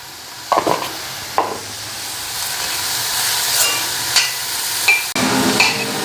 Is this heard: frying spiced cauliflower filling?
yes